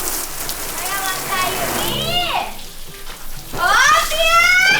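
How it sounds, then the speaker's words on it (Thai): Water sprays across a car body to rinse off shampoo at a car wash, a steady broadband hiss under talking voices, with a louder burst of spraying near the end. "ต้องรีบล้างแชมพูครับไม่งั้นมันจะเป็นคราบ"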